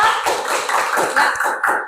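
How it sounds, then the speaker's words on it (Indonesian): Schoolchildren clap in a classroom, a busy patter of many hands that stays steady for two seconds. "Tepuk tangan dulu untuk kita semua"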